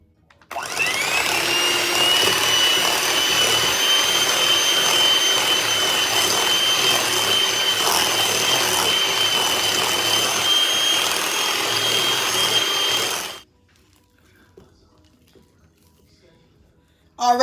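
An electric mixer blends cream cheese and pureed sweet potatoes for pie filling, whirring steadily at a constant pitch for about twelve seconds. It is loud and close, then cuts off abruptly into near silence.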